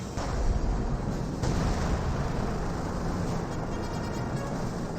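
A mortar barrage in Company of Heroes makes a continuous rumble of distant explosions, with a couple of sharper thuds early on over steady battlefield noise and no clear talk.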